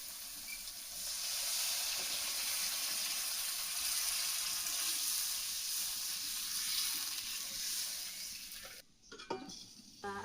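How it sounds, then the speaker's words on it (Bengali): Frying spices for a village-style Bengali fish curry sizzle loudly and steadily in oil, then the hiss breaks off near the end with a few clatters as water goes in. "মশলাটা ভাজা হয়ে গেছে, এবার জল ঢেলে দেবো।"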